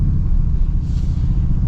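A Toyota Tundra TRD Pro full-size pickup truck driving, heard as a loud, steady low engine and road rumble from inside, constant throughout with a brief hiss midway.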